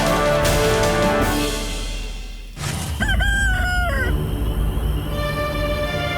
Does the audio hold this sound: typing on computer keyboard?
no